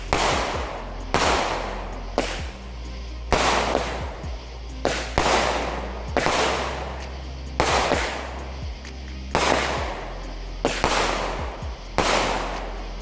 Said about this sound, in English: It also comes with a 9-shot champ by Shogun.